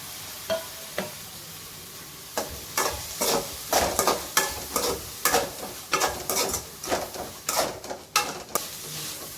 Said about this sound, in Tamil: குடமிளகா நல்லா வதங்கட்டும், அது வரைக்கும் வதக்கிக்கலாம்.